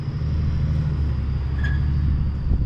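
An old big rig truck engine runs smoothly and steadily while driving through a field, with a loud continuous low rumble and a faint brief whine partway through.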